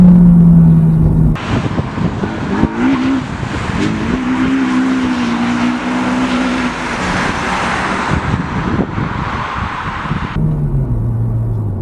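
A naturally aspirated 2-litre VTEC engine in a Honda Type R revs hard under acceleration, loud and close, with rising engine tones climbing through the gears and a steady roar before it eases off at the end.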